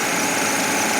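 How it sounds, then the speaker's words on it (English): Mercedes 600SL engine running roughly right after its warm-up enrichment cuts out, a steady, dense, close mechanical drone with no voices over it. "now the engine starts to run really badly"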